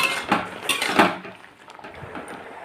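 A utensil stirs bottle gourd greens curry in a pan, producing a few close, rhythmic scraping clatters early on that fade into a quieter, soft rustle; nobody talks.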